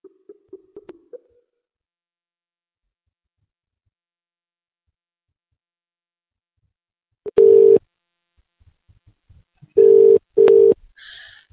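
A telephone line tone sounds in three short steady bursts, one longer beep followed by two shorter ones, loud and clean over near-silence, with faint clicks in between.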